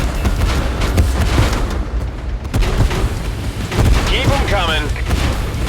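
Artillery bombardment in the Tank Force video game on Renaissance Island: repeated heavy booming explosions and rumbling impacts, loud and continuous, with a voice speaking over them.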